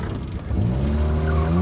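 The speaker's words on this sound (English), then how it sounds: "The tires are just hitting all the fenders and stopping us from doing anything smoothly at all." An old NA Mazda Miata driving rough with its tires rubbing the fenders: loud, close engine drone with rising tire scrub and squeal under the car over a short burst.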